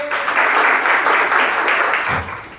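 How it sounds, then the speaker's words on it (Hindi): A classroom of students claps loudly and steadily for about two and a half seconds, the applause dense and close, then tapering off near the end. "आ जाओ भाई, एक बार जोर ताली बजाओ भाई"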